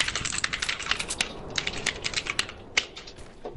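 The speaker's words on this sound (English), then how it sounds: "That fake typing though." Rapid keystrokes clatter across a computer keyboard during a gaming session, steady and close up, with a few sharper clacks standing out and no voices over them.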